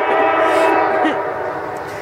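A Norfolk Southern freight train rolls past close by with a loud horn blast and rumbling rail noise that gradually fades, while people talk over it.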